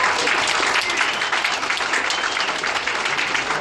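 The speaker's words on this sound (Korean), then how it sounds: "여러분 큰 박수 함께 보내주시죠." A large audience at a Harvard Club of Korea gathering breaks into loud, sustained applause, a dense roar of clapping that holds steady throughout.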